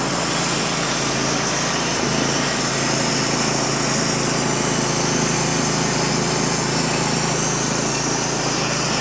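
A Norwood HD36V2 sawmill fitted with a fresh blade cuts through a large red oak log, giving a steady, loud mechanical engine drone with a constant whine that runs unbroken the whole time, with no talk.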